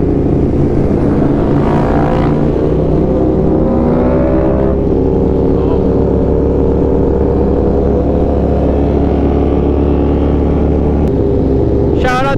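A superbike with a loud exhaust roars away from a car meet, its engine droning and revving hard throughout, with people talking over it and a sharp rev near the end.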